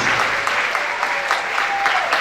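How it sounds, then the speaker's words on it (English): Sustained audience applause for a group of officers at an association ceremony, dense and steady throughout without a break. "Can we give a round of applause to all of our officers, please?"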